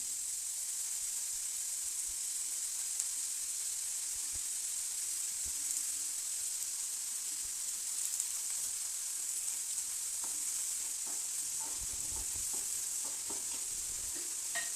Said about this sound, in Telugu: మనము ఆనియన్ కొంచెం బాగా వేడి అయితే మనకు బాగుంటుంది. ఇది కొంచెం బ్రౌన్ కలర్ వచ్చే వరకు మనం ఇట్లా వేడి చేసుకోవాలి ఫ్రెండ్స్